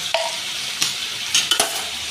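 Chopped stalks for a Bengali stalk curry (data chachchari) sautéing with salt and turmeric in a pan, a steady soft sizzle with a few quick scraping stirs of a spatula, close and without talk.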